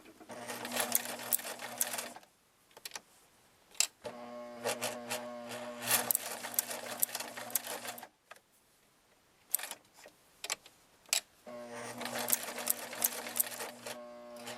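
A sewing machine stitches fabric for stuffed hearts in three long, loud, steady runs of rapid mechanical whirring, separated by short quiet pauses with faint handling clicks.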